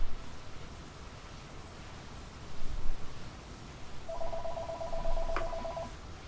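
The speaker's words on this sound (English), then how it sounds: "the phone rings in the background" A telephone rings faintly in the background beneath steady hiss and low rumble, giving a short tonal ring that lasts a couple of seconds.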